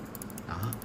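A new computer mouse gives a short run of crisp button clicks, close and fairly quiet, with no talking.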